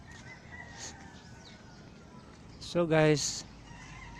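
A rooster crows once on a farm early in the morning, a short loud call rising over quiet outdoor ambience, with a voice speaking briefly just before it.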